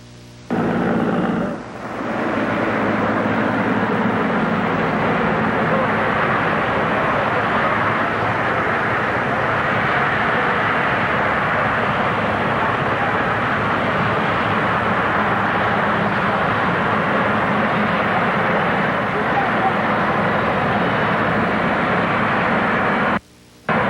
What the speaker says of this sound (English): The presidential helicopter is landing just on the other side of the farm